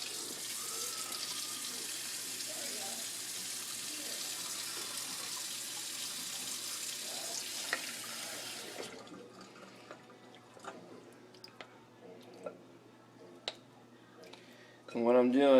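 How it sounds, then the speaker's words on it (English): Cold tap water runs steadily from a faucet while butter is rinsed, a hissing stream for about nine seconds that gives way to quieter drips, splashes and handling noises near the end. "I'm just going to use some cold tap water."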